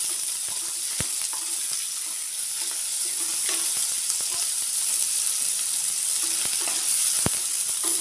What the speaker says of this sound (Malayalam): ചെറിയ ഉള്ളി ചതച്ചത്, നന്നായിട്ട് വഴറ്റിയെടുക്കാം